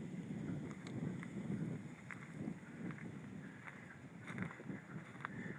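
Wind buffets a microphone outdoors beside a river at a nature center, a low, faint, continuous rumble with gentle gusts and no talking.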